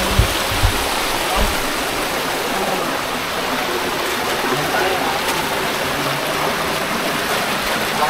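Candice Falls in Occidental Mindoro pours with strong rushing water, a loud, steady roar close by, while a voice talks over it.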